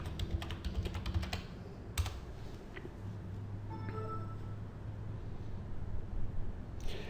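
A computer keyboard clicks in a quick run of keystrokes as login details are typed, followed by a few isolated taps over a faint, steady hum.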